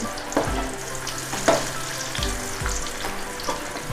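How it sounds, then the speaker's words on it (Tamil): White chickpeas deep fry in hot oil with a steady, close sizzle, broken by a few soft stirring clinks and scrapes; no one speaks. "கொஞ்சம் கொஞ்சமாக போட்டு பொரிச்சு எடுத்துடலாம்"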